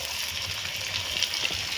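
Chopped onion sizzling in hot oil in a pan alongside garlic, a steady, even frying hiss that carries on without a break, close by and fairly loud, with no talk.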